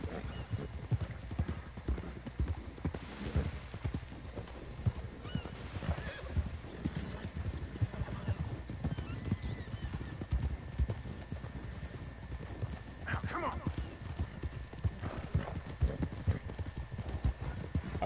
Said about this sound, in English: Come here, wild horsey. You will be mine.